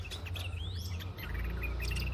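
A small songbird taken for a female cendet, a shrike sold at a market, chirps in a quick run of thin notes with a rising whistled sweep, close but fairly soft over a steady low hum.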